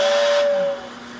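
A Lionel 125 whistle shed toy train accessory gives a steady, breathy steam-style whistle tone with a hissing edge, close and loud, held for under a second before cutting off.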